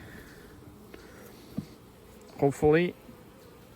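A low insect buzz hums steadily in the background, with a brief spoken word near the end.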